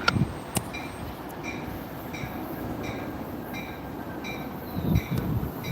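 Amtrak passenger train rolling past, a steady broadband rumble with faint rhythmic wheel clicks and brief high squeals, fairly loud and continuous without talk.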